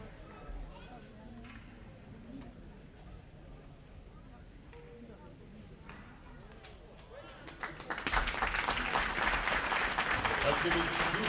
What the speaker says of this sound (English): Let's give a huge hand and a big round of applause to Big Rapids' own Brian Garlock